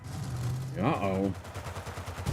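Gunfire in the multiplayer shooter Battlefield 6, rapid bursts running under a steady hum with a voice talking over part of it.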